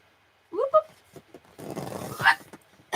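A long-haired miniature Dachshund gives short, rough growls and snarling vocalizations up close, mixed with people talking nearby.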